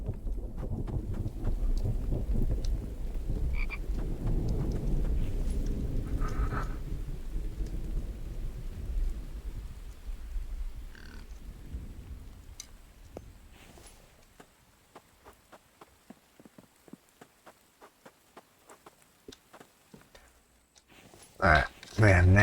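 A thunderstorm brings a long, loud rumble of thunder and heavy rain that fades into quiet scattered drips and taps, then a sudden loud crash near the end.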